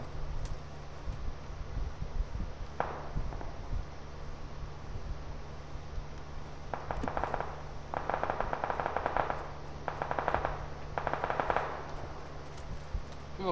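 Gunfire from a Vector submachine gun in the video game PUBG comes in several rapid automatic bursts, each about a second long, with a lone shot before them and steady background noise beneath. No one speaks.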